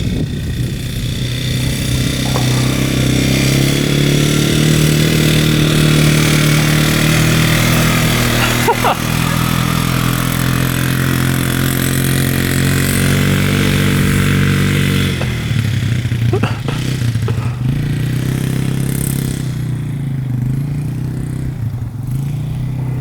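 A small ATV engine runs steadily and loudly up close, revving and droning for the whole stretch with some rattling and a brief drop in pitch, while voices talk faintly under it.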